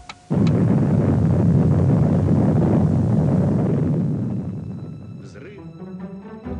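Underground nuclear test explosion at Semipalatinsk, a sudden deep roaring rumble that starts abruptly, holds heavy and loud for several seconds, then slowly fades, followed by faint voices.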